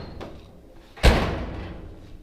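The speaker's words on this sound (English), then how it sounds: "the door now opens and closes without the whole car shaking" A car door swings and shuts with a single solid slam, near and loud, following a faint earlier click, with the body no longer shaking after repair work.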